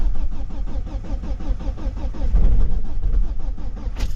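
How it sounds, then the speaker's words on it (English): A Ford Galaxy engine cranks over and over in cold weather, a loud, rhythmic, labored churning close by without catching, and no talk. "I want to try and start the car."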